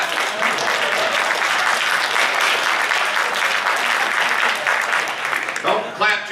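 An audience applauds steadily through a live talk in Raleigh, a dense wash of clapping that holds for several seconds before a voice breaks in near the end.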